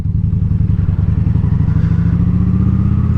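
A motorcycle pulls away from a stoplight and shifts from first into second gear. The engine drones loud and close throughout with a rapid chugging pulse, and no voice is heard over it.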